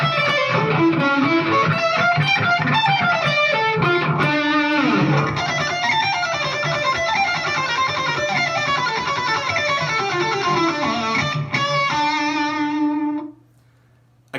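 Fast shredding on a heavily distorted electric guitar at normal speed, a loud continuous stream of rapid picked notes that runs for about thirteen seconds before cutting off into a brief low hum.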